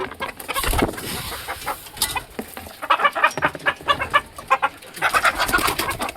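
A hen near its nest clucks in short repeated bursts, close by, with brief pauses and some other birds faintly in the background.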